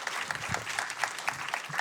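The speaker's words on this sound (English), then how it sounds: "let's give them one more round of applause" Brief audience applause for panelists at an AAPI Heritage Month event, a moderate crowd clapping with a few distinct individual claps standing out over the general patter.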